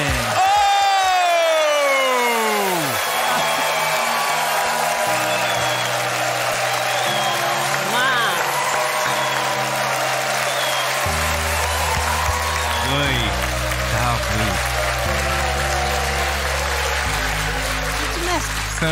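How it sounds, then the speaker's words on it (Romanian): A theatre audience at a televised Romanian roast show breaks into loud, sustained applause with cheering and whoops, filling the space continuously, while a synth-like musical tone plays underneath. "haideți cu un rând furtunos de aplauze pentru Rodica Mandache!"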